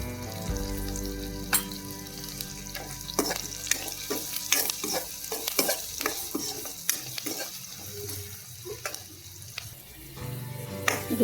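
Ingredients for tomato rice sizzle as they fry in a pan, with a spoon scraping and clinking in repeated stirring strokes close by.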